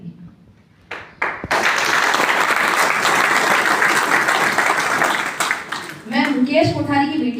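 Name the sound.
audience applause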